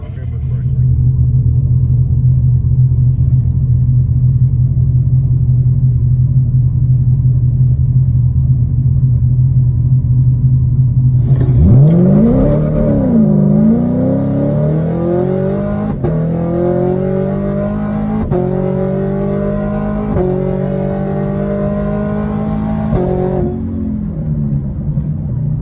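A supercharged 2019 Chevrolet Camaro SS on a drag strip, starting with a loud steady idle rumble before a roaring launch with rising engine pitch through several gear changes, close and powerful.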